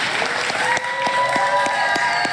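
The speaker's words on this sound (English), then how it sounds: "They love cheering for Merry Christmas." Crowd cheering and applauding for a Merry Christmas greeting during a live stream, a dense, continuous wash of clapping with no clear break throughout.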